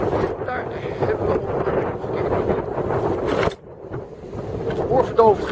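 A large, poled-out jib on a sailing yacht flaps and rumbles in strong wind at sea, a loud, continuous buffeting with wind noise on the microphone and a brief lull partway through.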